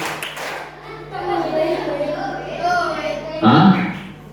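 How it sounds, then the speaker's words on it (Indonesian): Children at an Isra Mi'raj commemoration event sing along to a chanted children's song, then a short burst of hand clapping comes in near the end, loud and close. "Kalau kau anak soleh tepuk tangan."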